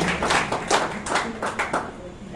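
An audience at a priests' day event claps together in a room, a steady patter of hands rising and falling in loudness with voices murmuring underneath throughout.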